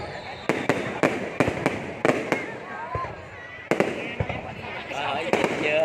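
Fireworks burst at midnight on New Year's Eve 2021 in Ho Chi Minh City, sounding as a string of sharp, booming cracks at irregular intervals. Crowd murmur and voices continue beneath the explosions.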